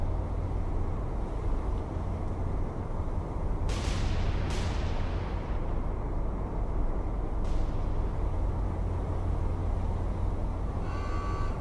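A ship's deck gun firing in the naval game War on the Sea, a few sharp reports spaced seconds apart over a constant low engine and sea rumble.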